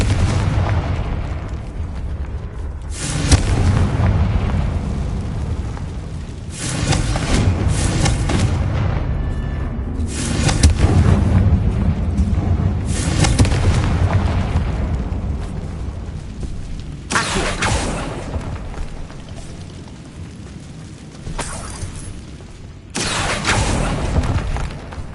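Blasting curse explosions in a Harry Potter video game come as a series of loud, heavy booms, several bursts spread across the clip over a continuous rumbling game soundscape.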